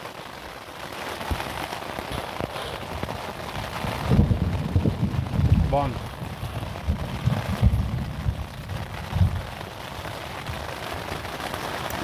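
Heavy rain drums outside a tent during a rainy campaign, with low rumbling bursts of thunder swelling in the middle and tapering off; a brief spoken word is heard.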